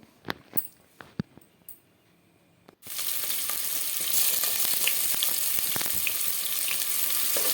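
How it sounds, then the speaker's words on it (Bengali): Onions frying in a little oil for a biryani-style khichdi start with a few sharp clicks and taps, then a loud, steady, continuous sizzle fills the rest, close and without speech. "পেঁয়াজ ভেজে নেব"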